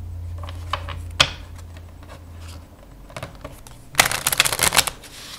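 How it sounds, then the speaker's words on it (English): Bicycle Premier Back playing cards shuffled by hand, a quick riffle with a sharp snap near the start and a dense, loud burst of flapping card clicks toward the end, close up with no talk. "Shuffle nicely and everything."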